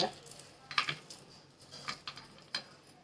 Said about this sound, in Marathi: आता हाताने असे चोळून घ्यायचे त्याचं साल पूर्ण आता काढून घ्यायचं